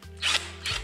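Clutch being popped off a Predator 224 small engine with a tool: a brief close mechanical ratcheting and clicking, two short bursts within under a second, no talk.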